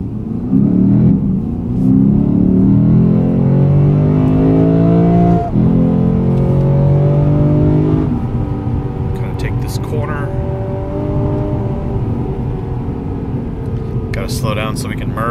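Lexus GS F sedan on a road trip pulling hard at wide open throttle through a turn apex, a loud sustained engine note rising steadily in pitch, then dipping briefly and climbing again, with someone talking over it.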